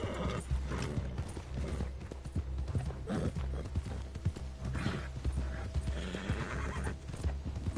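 A horse in Red Dead Redemption 2 online whinnies and snorts while its hooves clip-clop steadily, close and fairly loud, with gear-like mechanical clicks mixed in and no voices.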